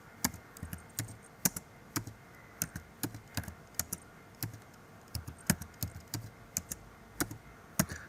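Names being typed on a computer keyboard, a close, steady run of light plastic key clicks in an uneven rhythm, with occasional heavier taps and no voices.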